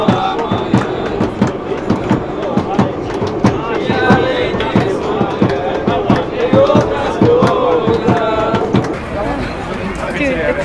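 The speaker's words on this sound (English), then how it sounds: "Dude, the crowd here is crazy." A large crowd of World Cup 2018 football fans near a Russian metro station on the way to the Fan Fest, loud and close, with rhythmic chanting, clapping and shouting in a steady throng, and a person talking over it.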